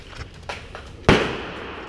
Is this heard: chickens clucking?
no